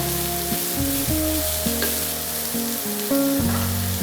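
Red cabbage and baby corn sautéing in a pan make a loud, steady sizzle with light stirring, while background music with shifting notes plays underneath.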